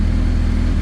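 A motorcycle engine with the throttle opened gives a loud, close, steady droning hum with a throbbing low pulse throughout the short stretch.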